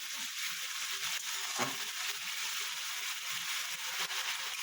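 New potatoes sautéing in a pan for a papaya-potato curry, a steady soft sizzle with faint scraping and stirring, close and continuous.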